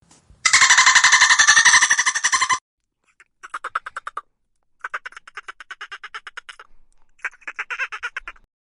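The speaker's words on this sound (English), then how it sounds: "The answer is dolphin." Dolphin calls: a loud buzzing burst of rapid clicks followed by several shorter, quieter chirping and squeaking click trains separated by silences, alone with no talking.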